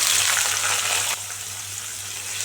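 Sliced onions and green chillies sauté in a pan for an idli and dosa kuruma. The frying hiss is steady and close, and it eases slightly in loudness partway through.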